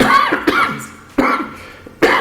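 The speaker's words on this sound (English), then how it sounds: "sorry about the coughing and everything" Three sharp coughs from one nearby person, each a harsh burst followed by a brief rasp, spaced apart with quiet gaps between.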